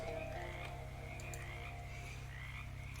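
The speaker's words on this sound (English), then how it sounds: "Oh, plenty of frogs." Frogs croak in the video game Shadows Over Loathing, a steady chorus of low, throaty croaks pulsing under a background music track with no one talking.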